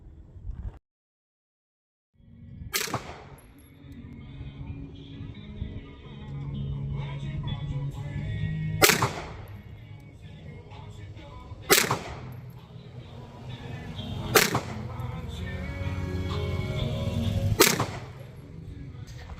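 A Girsan MC P35 PI pistol, a Browning Hi-Power clone, firing at 15 yards from a rest, five sharp, loud shots spaced a few seconds apart over a steady bed of background noise.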